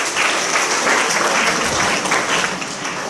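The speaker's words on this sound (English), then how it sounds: "Round of applause for this." Dense audience applause at a World Intellectual Property Day event, loud and steady for about three seconds, with faint voices underneath.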